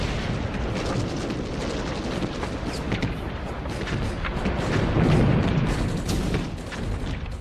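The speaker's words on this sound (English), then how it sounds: "There was nowhere to hide in fields swept by machine guns and rapid-firing artillery." Artillery fire in First World War battle footage: a dense, continuous roar of booms and blasts, loud and unbroken, with no distinct gaps between detonations and no voices.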